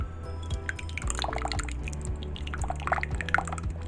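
Tomato puree being poured into a bowl while making enchiladas, giving soft wet drips and liquid splashes over a low background hum.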